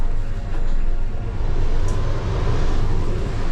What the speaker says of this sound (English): Engine's fired up